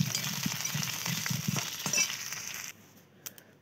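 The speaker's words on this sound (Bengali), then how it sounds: "দেখো আলু কটা কষাচ্ছি" Potatoes frying in a pan, a steady sizzle with soft stirring scrapes and knocks that stops abruptly near the end, leaving near silence.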